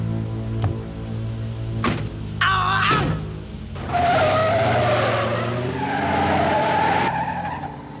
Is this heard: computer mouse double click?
no